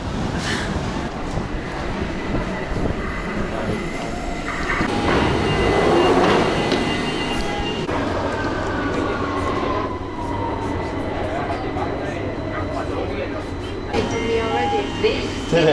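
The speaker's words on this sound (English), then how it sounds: "This is the first time you've been on a tube in about a year." A London Underground tube train rides along with a constant, loud rumble of wheels and carriage, swelling in the middle with rising and falling whines, while people talk over it.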